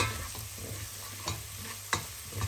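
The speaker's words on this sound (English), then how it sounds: "Just before it starts going to a brownie color, just keep stirring it" Food stirred in a frying pan while it browns for a Sylheti fish curry, with a soft continuous sizzle and faint spatula scrapes at intervals, close and without talk.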